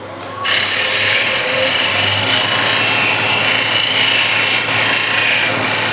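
A parting tool makes a light, steady scrape against spinning wood on a lathe. The rasping hiss starts abruptly and runs continuously for several seconds, close and fairly loud over the lathe's hum.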